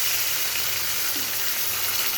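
Fish frying in hot oil in a wok, a loud dense close sizzle that hisses continuously and evenly from start to finish, alone without talk.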